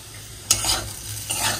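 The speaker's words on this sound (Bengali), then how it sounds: "এখানে দেখো খোসা শুদ্ধ আলু ভাজা করছি" Potatoes with their skins on frying in a pan give a short sizzle, with two quick stirring scrapes against the pan, close and alone.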